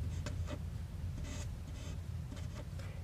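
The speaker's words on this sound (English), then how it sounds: "I'll just write it in here." A pen or marker scratches out short written strokes for a math problem, brief rhythmic scrapes over a low, steady background hum, close and faint.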